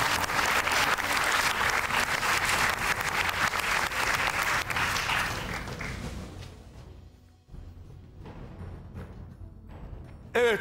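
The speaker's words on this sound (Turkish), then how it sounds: "Şimdiden çok teşekkür ediyoruz ve alkışlıyoruz iki çifti de." Audience applauds two dancing couples at a televised Turkish dance competition show, a loud, dense burst of clapping that fades after about six seconds, leaving a few scattered claps before it swells again briefly at the end.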